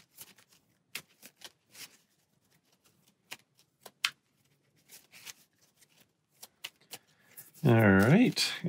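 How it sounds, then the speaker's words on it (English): Cards from the Arkham Horror card game are shuffled in a series of short, crisp riffles and snaps spread across the clip, fairly close and quiet. A person's voice comes in at the end. "So first, we're shuffling all these in."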